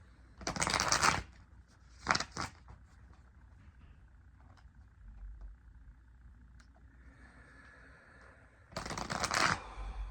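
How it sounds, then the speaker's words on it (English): A deck of tarot-style cards is shuffled in several bursts: two riffles near the start, a brief quieter pause, then another loud close riffle at the end, with no speech. "We're gonna pull some cards from here, actually."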